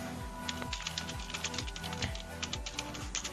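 Code is typed on a computer keyboard in rapid, irregular clusters of close key clicks under a low steady background hum.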